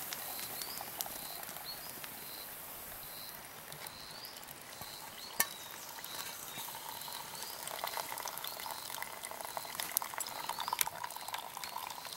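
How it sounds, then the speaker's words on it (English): Water heating to a boil in a pot over a small fuel-blob camp stove outside a cabin, a steady close hiss and bubbling patter with faint bird chirps in the background. "Just one blob was enough to boil all that water, and it's still burning there."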